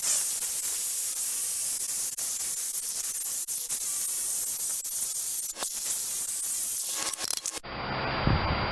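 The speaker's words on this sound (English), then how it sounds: "There's that nut that I've been trying to get to, and now I can get it with a grinder, which is what I'm going to do" Angle grinder cutting a nut off an MTD chipper shredder with a 5 hp Briggs and Stratton engine, a loud, continuous close hissing grind with brief dips and changes, ending in a quieter stretch; no one speaks.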